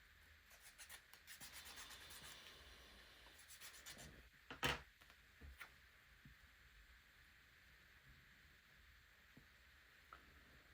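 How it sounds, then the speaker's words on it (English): Wooden parts from a UGears model kit are rubbed and sanded by hand, giving a soft, close scratching that is busier at first. A brief sharper knock comes midway, then the room falls mostly quiet. "they need to be waxed as well. And sanded on the outside."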